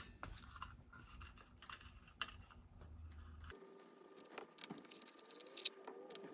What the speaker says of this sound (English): Getting the clutch cover off here.